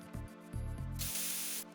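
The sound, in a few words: spray sound from Metal Gear Solid 2 video game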